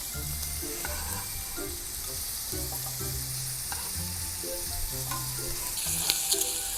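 Garlic sizzling as it fries at a motorcycle camping trip campsite, a steady crackling hiss with scattered pops and light scraping, close and alone with no talk.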